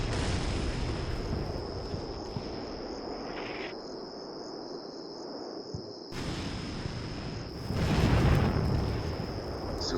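Artillery fire in the Combat Mission Black Sea war game comes as a few dull, distant booms and rumbling bursts. They sit under a constant shrill insect-like drone.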